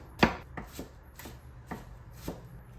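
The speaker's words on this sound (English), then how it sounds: "A little bit of red onion. You want these onions real thin." A knife slices red onion thinly on a cutting board, five or six distinct chopping taps at uneven intervals, the first loudest and the rest softer, close and clear with no talking.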